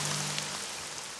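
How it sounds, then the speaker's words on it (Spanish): Cartoon rain effect as a sudden shower begins, a dense, even patter of drops filling the short moment with no voices. "¡No se supone que llueva hasta mañana!"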